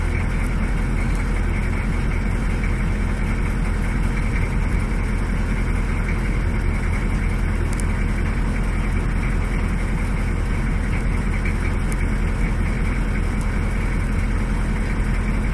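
A car engine idles after an alternator diode trio replacement, a steady unbroken low rumble that holds a constant level from start to finish, close and loud with no talking over it.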